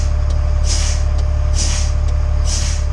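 Air brakes on an Abel LMTV military truck hiss in three short, sharp bursts as the brake pedal is pumped, evenly spaced over a steady low engine idle.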